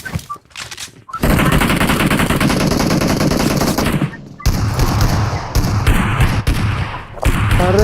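Rapid automatic gunfire bursts in a multiplayer shooter video game, loud and close, in long sustained volleys with brief gaps between them.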